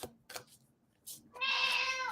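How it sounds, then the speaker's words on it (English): Pet cat meowing loudly indoors, a couple of short chirps and a soft breathy call followed by one long, drawn-out, strident meow, close and alone without talking. "My kitty gets very loud and vocal in me."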